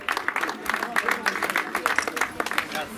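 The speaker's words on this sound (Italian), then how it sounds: "Un applauso a Viviana." A crowd at the Partenio Vertical Trail 2017 award ceremony applauds a women's race winner, dense continuous clapping from many hands, close and fairly loud.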